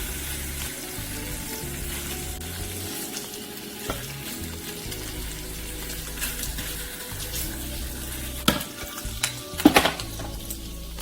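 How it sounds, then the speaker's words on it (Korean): Bacon and shrimp frying in a pan produce a steady, moderate sizzle throughout, with a few sharper clinks and spatters toward the end and no talk. "자, 베이컨과 새우를 구워보도록 하겠습니다"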